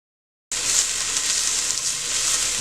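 Mushrooms, onions and garlic frying in a pan, a steady close hiss of sizzling that begins abruptly and holds constant, with no talk.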